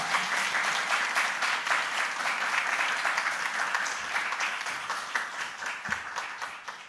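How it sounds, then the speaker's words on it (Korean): An audience at an autumn church revival service claps loudly to welcome a pastor to the pulpit, a dense sustained round of applause that slowly tapers off. "우리 나오실 때 박수로 한번 크게 환영해 주시면 감사하겠습니다."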